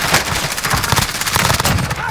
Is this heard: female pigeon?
no